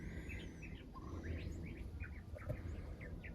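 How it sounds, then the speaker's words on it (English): Several small birds chirp and tweet in short, scattered calls from trees at a distance, over a steady low outdoor rumble, at Tonto National Monument in Arizona. "I can hear some birds tweeting around there in the trees."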